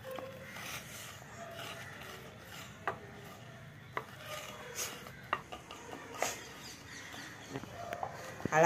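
Crushed ginger being ground in the manner of a stone grinder for coriander-seed tea makes faint, irregular rasping and scraping strokes with occasional sharper knocks, close by and quiet.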